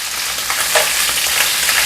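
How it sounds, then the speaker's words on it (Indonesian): Food sizzles steadily in a pan of hot oil as it fries slowly toward crispness, a loud, dense, close crackle with faint stirring scrapes and no voices. "Ini gorengnya pelan-pelan ya sampai garing."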